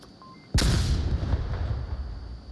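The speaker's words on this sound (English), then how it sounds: "Flashbang in effect" A flashbang grenade detonates in the VR shooter Onward, a sudden loud close blast after near-quiet, followed by a long ringing, rumbling tail lasting a couple of seconds.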